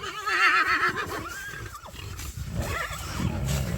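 A mare neighs loudly nearby, a shrill wavering whinny followed by snorting and rough breathy calls.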